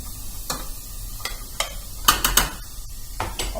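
Food frying in oil in a pan while lasagna is prepared, with a faint steady sizzle under scattered stirring scrapes and sharper clinks of a utensil against the pan.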